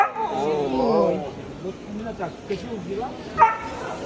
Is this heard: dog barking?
yes